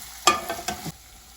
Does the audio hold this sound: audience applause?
no